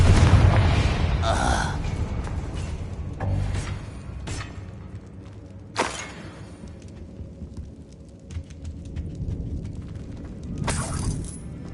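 The Confringo explosive curse in Hogwarts Legacy goes off in a few loud, sharp bursts with shattering crackle, spread across the stretch between quieter moments of game ambience.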